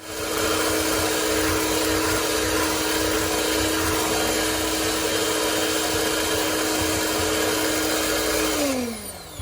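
An electric mixer whirs loudly and steadily through cornbread batter for several seconds, then its pitch drops as it winds down at the end.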